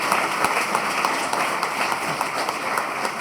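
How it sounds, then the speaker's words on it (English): Applause from an audience at a housing authority annual meeting, honoring the commissioners: steady, dense clapping sustained throughout at moderate loudness, with individual claps faintly distinct. "Let's give the commissioners a round of applause for your oversight as well"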